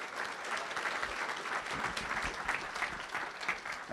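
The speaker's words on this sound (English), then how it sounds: "so please give them a round of applause" A crowd at a community flood recovery meeting claps in sustained applause of dense, even hand claps for about four seconds, with no voices standing out above it.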